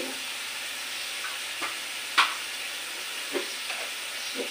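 Green chili paste sizzles in a pan with a soft steady hiss, broken by a few brief spatters and scraping stirs, close but fairly quiet.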